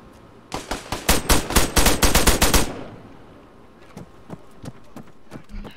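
Automatic gunfire in Arma 3: a rapid, loud burst of about a dozen shots over two seconds, then scattered sharper single cracks and thuds trailing off at varying distances.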